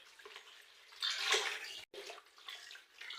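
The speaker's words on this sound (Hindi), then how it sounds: "ये रहे यहाँ पर दीदी शूज़ धो रही है हमारे" School shoes being scrubbed and washed with water, with splashing and running water that swells in the middle, cuts out briefly, then continues at a moderate, close level with no talking.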